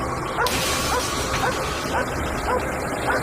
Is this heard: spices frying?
no